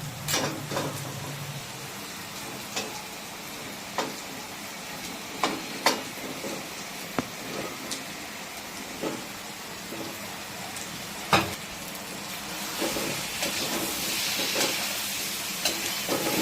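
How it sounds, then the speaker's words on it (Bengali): Oil sizzles and hisses steadily in the pan as fried potatoes go into a Bengali Katla fish curry, with scattered clicks and taps from stirring over the constant frying noise. "তো বন্ধুরা, এইবারে এতে দিয়ে দিচ্ছি ভেজে রাখা আলু।"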